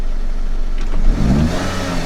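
A 2014 Audi A6 engine revs up against a soft rev limiter, its note rising and then holding in a strained, steady drone for a couple of seconds, close and fairly loud.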